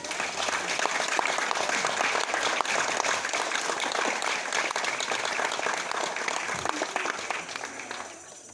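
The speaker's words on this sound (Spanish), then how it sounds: "Demos un fuerte aplauso por" A crowd at a graduation ceremony in San Martín Derramadero applauds the graduates, a dense, steady wash of many hands clapping at once that holds for several seconds before easing off slightly at the end.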